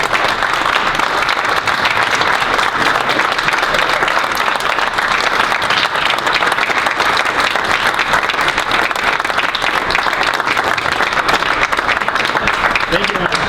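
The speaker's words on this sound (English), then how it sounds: "If you would give him a big round of applause." Sustained audience applause for John Young at a disc jockey conclave, a long, even rush of many people clapping, loud and unbroken, with voices mixed faintly into the crowd noise.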